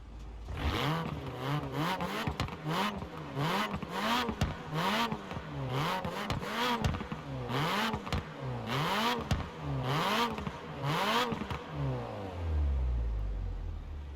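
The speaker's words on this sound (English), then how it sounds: "we'll do our audio clip now of the engine sounds for this thing" A high-revving Alpine A110 engine in Forza Horizon 4 climbs and drops through repeated gear shifts, each shift marked by a sharp crackle, before winding down at the end.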